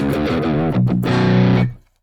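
An electric guitar played through the Neural DSP Archetype Plini X amp plugin with the reverb switched off, giving a loud, distorted, completely dry tone: a bending note, a quick second attack, then a sustained chord cut off abruptly into silence.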